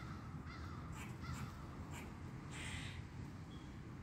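Crows caw a few times against a loud, noisy outdoor background, brief faint calls partly masked by the constant wash of sound.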